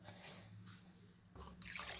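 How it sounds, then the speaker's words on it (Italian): Water is poured into a pan of salmon tortiglioni, giving a soft, close trickle and dribble with light splashing that grows a little louder toward the end. "Ne aggiungo un altro goccino d'acqua"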